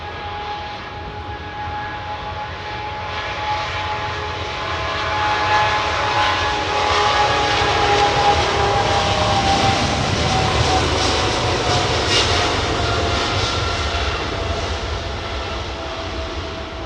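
A jet airliner at London Heathrow Airport roars steadily nearby, a loud broad engine rumble that swells toward the middle and holds with a faint whine on top, no voices over it.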